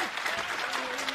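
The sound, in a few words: audience applause at a fighting event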